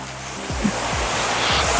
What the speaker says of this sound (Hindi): Oh that is the waterfall, nice.